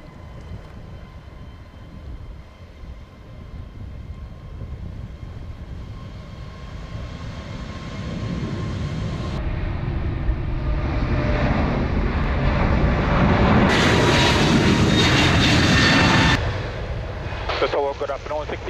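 A JetBlue airliner on its takeoff roll from runway 07 at Montego Bay, Jamaica, a loud steady jet roar building in power and swelling as the aircraft passes close, with a radio voice heard over it.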